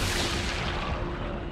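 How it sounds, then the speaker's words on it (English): A flashbang grenade goes off in Resident Evil 4 Remake, leaving a dense, continuous wash of loud roaring noise and ringing that stays at full level without a clear attack or fade. "Flashbang!"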